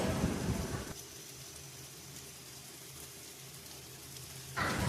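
Boiled water lily stems hit hot oil with fried tempering spices and are stirred: a loud hiss and crackle at first that settles into a softer steady sizzle, then flares up again at the end.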